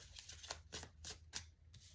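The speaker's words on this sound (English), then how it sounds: "let me stop shuffling because I think I got everything" A deck of tarot cards is shuffled close by, giving faint, quick riffling bursts that repeat in an uneven rhythm with short gaps between them.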